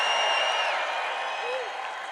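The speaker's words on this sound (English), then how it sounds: "Let's hear a big crowd cheer." A large political rally crowd in Nashville cheers and applauds continuously in a broad, loud wash of noise, with a voice speaking over it.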